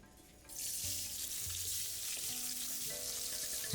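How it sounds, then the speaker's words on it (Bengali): Bata fish frying in hot oil in a wok gives a steady, close sizzle that swells sharply after the first half second and holds loud to the end, with a few soft clinks and stirring knocks underneath. "এবার মাছগুলো দুদিকে আপনাদের ভালো করে একটু ভেজে নিতে হবে।"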